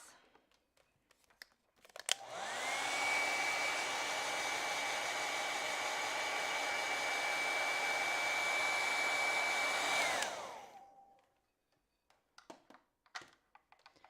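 A hair dryer blows on acrylic paint, starting abruptly and running as a steady close whoosh with a high whine for about eight seconds before cutting off, with soft clicks and handling sounds before and after.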